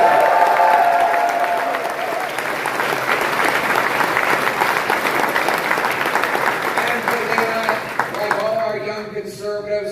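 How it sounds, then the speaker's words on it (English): Audience applause fills a campus youth political event at the University of Toronto's Mississauga campus, a dense, sustained wash of many hands clapping with some crowd noise, steady throughout and tapering near the end. "Give her a big round of applause."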